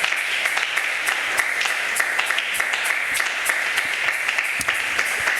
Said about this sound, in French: Nous acclamons très fort le Seigneur Jésus.